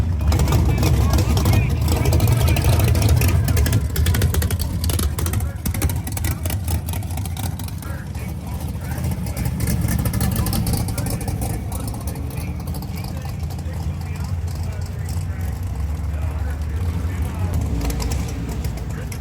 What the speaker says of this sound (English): Over here, our next pair of cars.